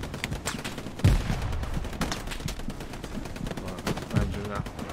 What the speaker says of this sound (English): Oh, I'm getting shot in the back now